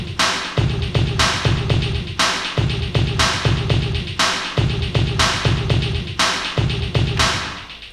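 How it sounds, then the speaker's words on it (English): A drum pattern built from sampled everyday noises on an AKAI MPC One loops steadily, with repeated punchy hits and crisp noisy transients in a regular rhythm, close and loud with no talking. "so now you can go to the step sequencer and enter a drum pattern, and it sounds like this"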